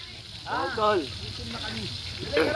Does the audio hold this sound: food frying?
yes